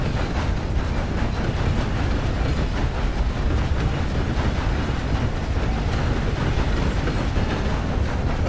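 A moving train in Red Dead Redemption 2, rumbling steadily and loudly at close range with a dense rolling clatter of wheels on track, constant for the whole stretch with no voices.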